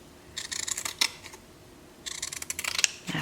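Scissors snip through fabric for a handmade journal cover in two close bursts of quick, crisp cuts separated by a short pause, with no talk.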